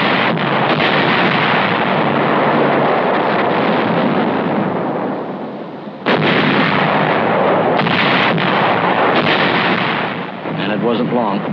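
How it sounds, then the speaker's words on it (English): Heavy guns and aircraft bombard the fortified island of Cézembre in 1944, a loud continuous roar of barrage and blasts, sharply renewed midway, in a distant wartime archival recording. "Only our big guns could reach that heavily fortified little island."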